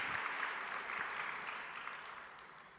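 A church congregation claps together during a sermon, producing a soft, steady wash of applause that sounds somewhat distant and fades slightly toward the end.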